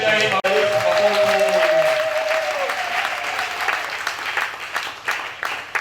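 A church congregation applauds during a Sunday service, loud sustained clapping that begins under a fading sung or held tonal sound and continues alone as a dense crowd ovation.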